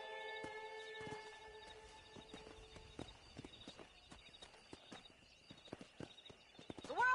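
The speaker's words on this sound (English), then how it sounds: "let's see if we can't wrangle some horses." Horse hooves clip-clop steadily in a video game as horses are wrangled by rope, with sustained game tones underneath and a sharp rising whinny at the very end.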